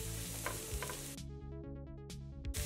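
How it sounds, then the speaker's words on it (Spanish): Garlic frying in oil gives a dense, close crackling sizzle with a steady hum beneath it, loud and continuous throughout. "vamos a poner a sofreír el ajo"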